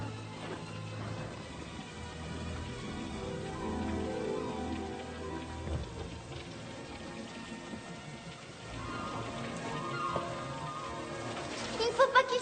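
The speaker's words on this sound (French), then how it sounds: "Regarde, la pluie ne lui fait aucun mal." Steady rainfall patters on surfaces as a continuous soft hiss beneath layered music and ambience, moderately distant, with a few brighter drips near the end.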